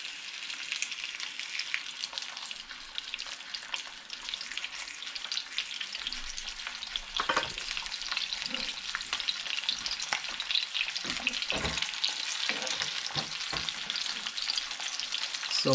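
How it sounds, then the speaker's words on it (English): Pompano fish pan-frying in oil, a dense, continuous close sizzle and crackle that holds steady for the whole stretch, with a few soft thumps of a utensil near the middle and end. "So just fry until golden brown on each side."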